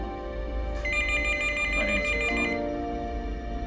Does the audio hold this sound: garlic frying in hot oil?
no